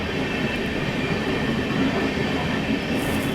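The Tirupati Chamarajanagar Express rushes past close by, a loud, continuous roar of rail wagons and wheels on track that holds steady throughout with no voices over it.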